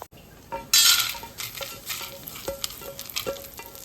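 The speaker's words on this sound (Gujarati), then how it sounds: "આપણી ચણાની દાળ અને અડદની દાળ પણ એકદમ સરસ એવી શેકાઈ ગઈ છે અને એકદમ ગોલ્ડન બ્રાઉન થઈ ગઈ છે" Chana dal and urad dal roasting in a pan: a brief loud sizzle, then repeated scraping stirs and light metallic clinks of a spoon against the pan, close and steady, with no talking.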